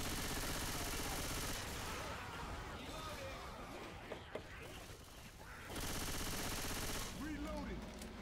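Gunfire from the zombie shooter Left 4 Dead 2: dense, rapid bursts of shooting pour out almost continuously, thinning briefly in the middle before resuming hard. Voices chatter faintly beneath the shots.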